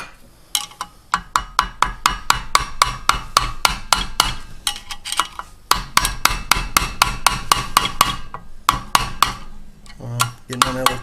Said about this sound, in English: put this nut back on, same way you took it off, hammering a chisel